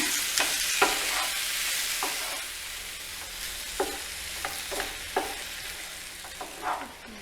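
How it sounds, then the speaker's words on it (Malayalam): Boiled yam pieces get stirred into fried onion and chilli in a pan, a soft continuous sizzle broken by repeated spatula scrapes and light clinks at an uneven rhythm, close up with no talking. "ഇനി നമുക്ക് വേവിച്ച് വെച്ചിരിക്കുന്ന ചേന ഇതിലേക്ക് ഇട്ട് കൊടുക്കാം നന്നായിട്ട് ഇളക്കണം"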